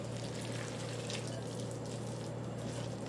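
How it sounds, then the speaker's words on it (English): Water being poured into a potato fritter mix, a steady, continuous trickle under a constant low hum, close and even throughout, with no voices. "I'm gonna add another tablespoon of water"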